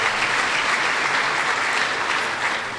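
Conference attendees at a Southern California economic summit give Tom LaBonge a round of applause, a loud, dense, continuous burst of clapping lasting a few seconds.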